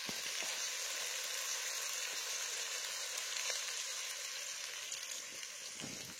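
Sauce simmering and sizzling in a pot over low heat, a continuous close hiss with fine crackling and faint popping throughout.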